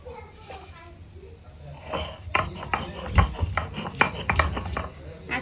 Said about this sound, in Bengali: এখন আমি এই যে মশলা বেটে নিচ্ছি